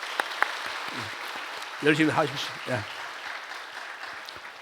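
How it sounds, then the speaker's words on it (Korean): Congregation applauding during a Sunday church service, steady clapping heard throughout at moderate level, with someone briefly speaking over it midway. "박수로 한번 격려하겠습니다."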